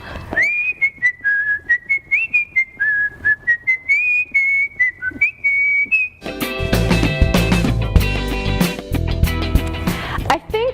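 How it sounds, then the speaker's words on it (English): A person whistles a clear, wavering melody in short repeated phrases, close and loud, then music with instruments takes over. "I learned to whistle when I was very, very young, and so I whistle very, very well"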